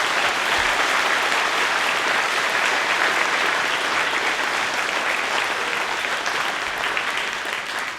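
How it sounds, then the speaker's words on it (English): A school assembly audience at a Veterans Day event claps for veterans, sustained, loud applause from a large crowd that holds steady and eases slightly at the end. "Give them some applause, guys."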